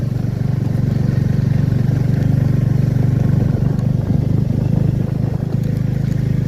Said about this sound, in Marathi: आम्ही बाईक घेऊन वर चाललेलो आहोत